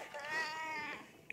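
A house cat gives one drawn-out meow, close and fairly loud, with a short sharp sound at the end and a quiet voice nearby.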